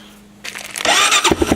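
A diesel engine on a wet sandblasting setup cranks and catches after a quiet start, quickly building into a loud, rough running clatter at close range.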